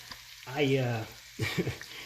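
Garlic hits a hot pan of sizzling cabbage in a spicy Szechuan stir fry, giving two bursts of close, steady frying hiss separated by a short pause.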